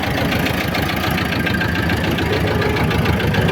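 A T-25 tractor engine chugs steadily and loudly up close, its low rhythmic knocking unbroken throughout.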